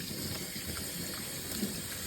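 Running tap water rinses juicer parts coated in green juice pulp and ginger, a steady, fairly quiet gushing hiss with no break.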